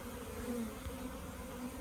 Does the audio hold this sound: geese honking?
no